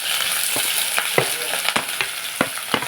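Green chillies and onions sizzle loudly in oil in a pan on a stove, a dense continuous frying hiss broken by regular scraping thuds of a spatula stirring them.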